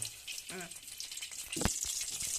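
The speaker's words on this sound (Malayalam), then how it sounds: "കടുക് വറുക്കുക കേട്ടോ." Mustard seeds frying in hot oil for a homemade ginger curry, a bright crackling sizzle that swells near the end, with someone talking briefly over it.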